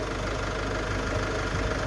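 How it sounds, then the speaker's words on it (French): Peugeot car engine (507/407 chassis) idling steadily while the car sits jacked up and parked, a low, even hum with a faint knocking texture running continuously and fairly quiet throughout. "là le moteur tourne"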